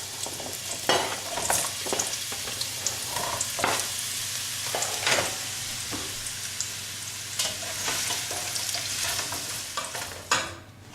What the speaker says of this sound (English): I'm just going to throw our sweet potato chips into the pan,